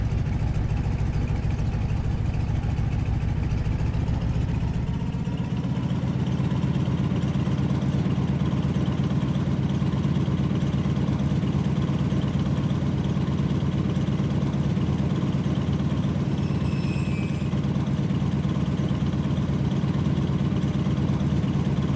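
A propeller plane in the Microsoft Flight video game taxis onto the runway, its engine a steady, loud, droning hum throughout with no speech.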